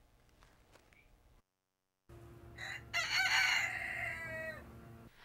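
Chickens at a community garden: after a brief gap, a rooster crows once loudly and close, a drawn-out call over a steady low hum and soft clucking.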